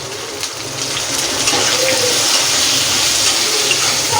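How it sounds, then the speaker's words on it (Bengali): Onions frying in hot oil with curry leaves for a Bengali doi begun, a steady broadband sizzle holding evenly throughout, close and fairly loud with no voices. "এবারে পেঁয়াজটা ফোড়ন দিয়ে আমি একটু লাল লাল করে পুরো ভেজে নেব।"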